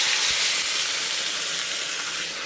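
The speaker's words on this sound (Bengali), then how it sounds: "পেঁয়াজটা এখন ভেজে নেওয়া হচ্ছে" Onion fries in hot oil in a pan, giving a loud, dense, continuous hissing sizzle that barely varies, heard up close with no voices present.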